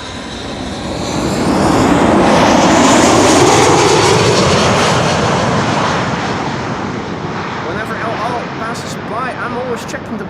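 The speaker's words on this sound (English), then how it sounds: "El Al Flight 337, arrival from Tel Aviv. 737-900, 4 hours and 22 minutes underway." An El Al Boeing 737-900 airliner, arriving from Tel Aviv, roars past at Amsterdam Schiphol Airport. The loud jet engine noise swells, holds steady, then slowly fades with a falling whine.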